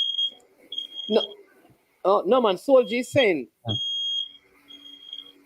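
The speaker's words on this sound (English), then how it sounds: "I hear a beeping." Smoke alarm giving short repeated high beeps, mixed with people talking in an indoor setting.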